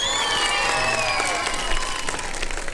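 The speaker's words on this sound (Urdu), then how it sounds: "تالیاں بہت ضروری ہیں آپ لوگوں کی" A studio audience at a televised Ramadan transmission claps in sustained applause, a dense even patter over tonal music lines, loud and continuous throughout.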